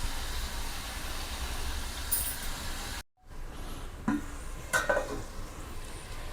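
Onions sizzle and crackle steadily in a pan while frying with salt, a continuous close hiss broken by a brief drop to silence and a few scrapes from stirring.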